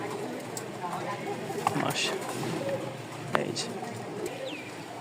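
Racing pigeons coo softly in a loft in Mirpur-1, Dhaka, their low murmurs mixing with a few chirps and faint background noise, while someone talks over them.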